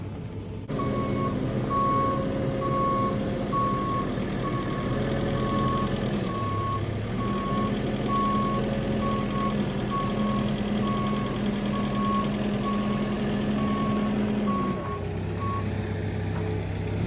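Reversing beeps pulse steadily from a truck fitted with a loader, a regular high-pitched alarm repeating over a continuous diesel engine rumble for the whole stretch, close and loud.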